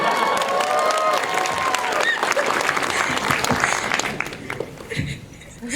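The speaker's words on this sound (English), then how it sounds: "Can I get a clap clap?" An audience at a dance showcase exhibition bursts into clapping and a few cheers, loud at first and then thinning and fading toward the end.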